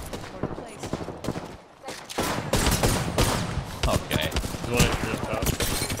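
Rapid gunfire from an Apex Legends firefight, with repeated loud shots and bursts throughout and a voice speaking briefly over the shooting.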